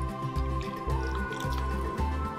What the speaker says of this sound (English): I'm going to dip my hands in the warm water